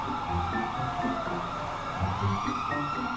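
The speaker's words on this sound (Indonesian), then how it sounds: "Langsung datang ambulan, coy." Ambulance siren in the video game GTA 5 wailing loud and continuous as the vehicle arrives, with a rising and falling tone over engine and traffic rumble, no talk.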